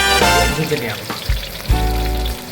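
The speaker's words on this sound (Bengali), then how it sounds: "ভেজে নেওয়া হচ্ছে।" Food frying in oil for picnic snacks at an outdoor cooking setup, a loud, steady sizzle with low rumbling thumps partway through.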